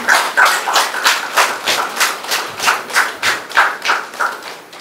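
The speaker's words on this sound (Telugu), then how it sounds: "చప్పట్లు కొడదాం." An audience at a meditation event claps in unison for the meditation masters, a loud, steady rhythm of synchronized beats, roughly two or three per second, with no voices.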